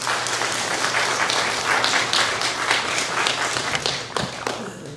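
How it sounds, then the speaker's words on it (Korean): Church congregation applauds warmly as the pastor comes forward at an Easter service, a dense, steady clapping from many hands lasting several seconds at a fairly even level. "우리 목사님 나오실 때 우리 큰 박수 부탁드립니다."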